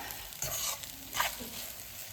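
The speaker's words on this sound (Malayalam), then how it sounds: "അപ്പം ഞാനിത് നന്നായിട്ട് മിക്സ് ചെയ്ത് കൊടുക്കുന്നുണ്ട്" Prawn biryani rice is being stirred into masala in a pot, with gentle scraping strokes over a faint, low sizzle, close but quiet, and a couple of slightly louder stirs.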